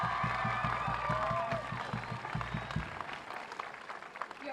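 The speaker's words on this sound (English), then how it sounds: "Can I have a round of applause for them again?" Crowd applause at a Milwaukee high school groundbreaking ceremony, steady clapping from many people with a few cheers, heard beneath a low rhythmic musical beat that stops partway through while the clapping carries on.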